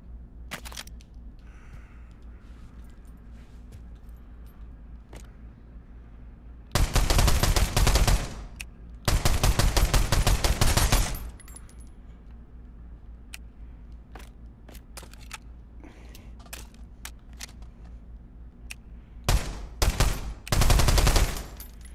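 Gunfire in the video game Pavlov: loud bursts of automatic fire come in long rattling volleys, separated by scattered single shots and quieter stretches.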